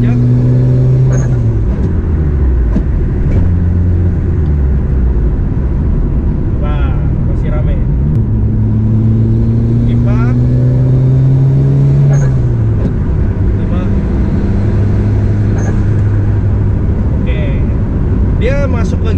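Mitsubishi Lancer Evo VII pulling hard at full throttle, loud engine note climbing through the revs with gear changes dropping the pitch, heard from inside the car while someone talks over it.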